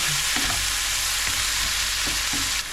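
Capsicums and tomatoes fry with herbs and spices in a hot pan, a loud constant sizzle broken by a few scraping stirs, close and without speech.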